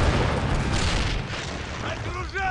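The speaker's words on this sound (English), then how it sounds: "Artillery coming in from somewhere." Artillery shells land in the war video game Chechnya 2005, heavy rumbling booms and dense low explosion noise rolling continuously, with faint whistling sounds near the end.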